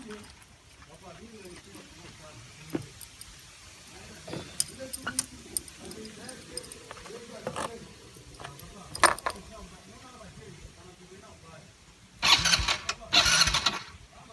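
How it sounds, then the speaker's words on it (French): A Yamaha Raptor 90 quad bike is started, with handling noises and talk first and then two loud bursts of the engine cranking and catching near the end. "Nous allons passer au démarrage du Raptor Yamaha 90."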